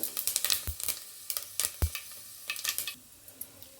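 Cumin, mustard and fennel seeds crackle and pop in hot oil, close up, with sharp bursts of spattering and a couple of dull knocks from the pan, then settling to a softer hiss.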